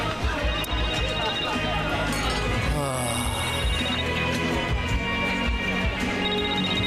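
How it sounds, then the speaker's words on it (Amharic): A telephone rings indoors during a tense domestic drama scene, its ring sitting under steady conversation and background music rather than standing out on its own. "ስልክ እየጠራ ነው።"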